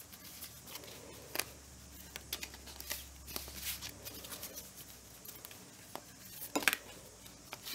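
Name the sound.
shuffling Angel of Atlantis oracle cards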